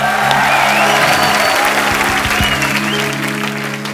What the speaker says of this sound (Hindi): तालियां पहले हो जाए जरा